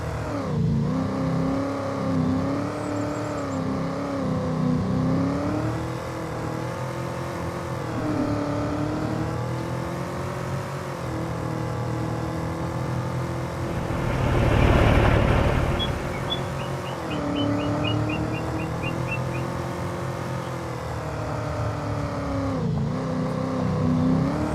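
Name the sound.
vehicle driving on slippery ground in farming video game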